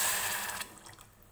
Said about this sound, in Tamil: ஒரு கப் தண்ணி ஊற்றி